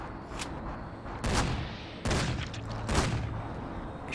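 Gunfire in the Cortex Command game comes as several loud, separate shots with booming tails, spaced roughly a second apart over a rumbling background.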